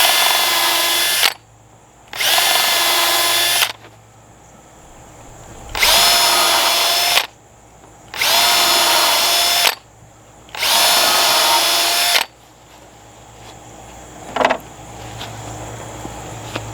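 A power drill runs in five loud bursts of about two seconds each, separated by short pauses, boring holes in wooden cross members for a mobile chicken coop, followed by quieter handling noises.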